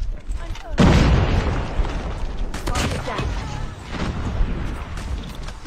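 A frag grenade blows up in the mobile shooter Call of Duty Mobile with one loud, heavy boom, followed by a rumbling tail, scattered gunfire and game voice chatter.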